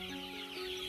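Hybrid chickens on a farm clucking, a brief soft burst of fowl calls with a steady tonal hum underneath.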